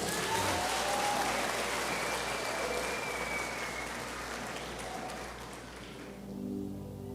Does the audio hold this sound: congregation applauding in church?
yes